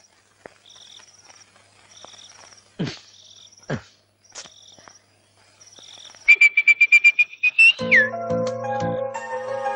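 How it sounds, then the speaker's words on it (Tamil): High, thin whistling chirps repeat in short bursts, followed by a rapid trill and a sustained whistled tone, with scattered clicks and brief squeaks between. "ஏதோ விசில் சத்தம் கேட்டுது"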